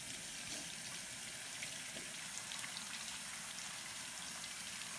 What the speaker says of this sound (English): I'm going to start filling up the sink again